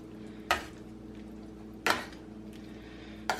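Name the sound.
stirring chicken pot pie filling in a pot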